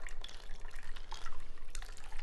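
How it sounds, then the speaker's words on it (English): Cocktail liquid is strained from a shaker into a glass, with the ice held back: a close, steady trickle and splash that runs continuously with a few drip-like splashes and no talk. "to pour freely into the glass"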